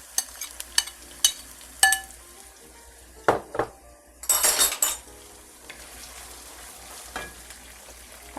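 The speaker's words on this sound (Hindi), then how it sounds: "प्याज को मैं अच्छे से फ्राई कर लूँगी" Chopped onions, tipped onto ginger, sizzle in a pan while a spoon stirs and clinks against the metal in a series of sharp taps, with a louder burst of frying in the middle.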